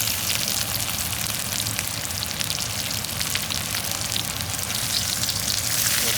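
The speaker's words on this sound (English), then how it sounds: "Let the first side crisp up, then we'll toss them over and start crisping up the other side" Baby potatoes crisping in a hot pan give a steady, dense sizzle and crackle that runs evenly throughout, close and fairly loud, with no voices over it.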